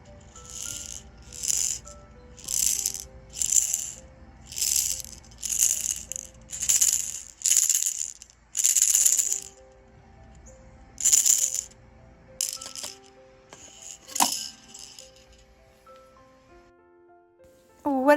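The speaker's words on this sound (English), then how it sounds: "It has little balls in it. Little beads that make noise and go around with all different colors." A toddler's plastic ring stacker, its rings filled with small colored beads, shaken in a steady run of rattling bursts, then a few scattered clacks and rattles, close by.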